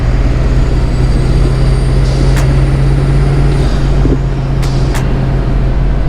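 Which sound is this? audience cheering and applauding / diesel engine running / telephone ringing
diesel engine running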